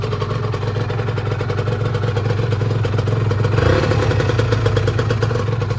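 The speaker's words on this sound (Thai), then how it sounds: "เครื่องติดนะครับ วาล์วทำงานแต่แบตมันอ่อนมาก" Honda NSR RW motorcycle engine running with a weak battery, a loud, close, steady idle with a rattling two-stroke clatter that rises slightly partway through.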